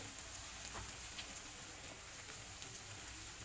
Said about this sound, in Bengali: চলো ভালোভাবে মশলাটা আগে কষে নিই।